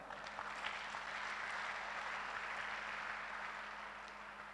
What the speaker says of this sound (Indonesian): Sekali lagi tepuk tangan untuk Diamond Network